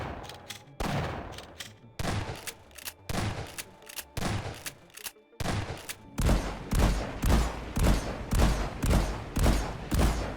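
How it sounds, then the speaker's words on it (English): Shotgun blasts from the Half-Life spin-off and Deep Rock video games, a loud sequence of repeated booming shots with short gaps, growing denser and heavier toward the end with no talking. "shotgun,"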